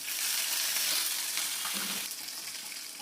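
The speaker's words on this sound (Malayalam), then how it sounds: "വെളിച്ചെണ്ണ ചൂടായി. 1 സ്പൂൺ കടുക്, പച്ചമുളക്," Mustard seeds, green chilli and curry leaves hit hot coconut oil for ulli theeyal, a loud, dense, close sizzle that fills the clip and eases slightly toward the end, with no speech.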